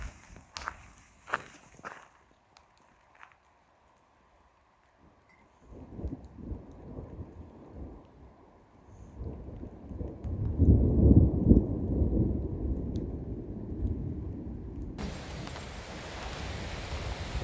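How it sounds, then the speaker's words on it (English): Light rain patters around a backpacker on a Wyoming trail toward the Cirque of Towers, starting as a few sharp close drops and then growing into a steady, louder rustle and hiss that lasts to the end. "Raindrops are falling on my head. They're pretty light though."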